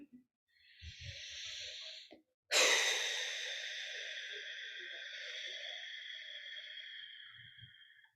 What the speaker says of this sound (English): allow yourself to take a deep breath or two with that long exhale